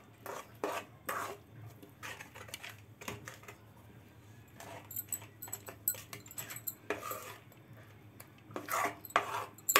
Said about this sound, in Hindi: अच्छे से मिलाएंगे, क्योंकि इसमें लम्स ना पड़ जाए।